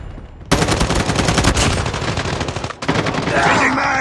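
Rapid automatic gunfire from a Call of Duty firefight bursts in loud and dense after a quiet start, rattling almost without pause, breaking briefly near the end before another burst resumes.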